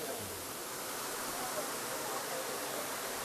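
Rushing water at Abbey Falls makes a dense, steady, loud roar that continues unbroken throughout, with no distinct voices.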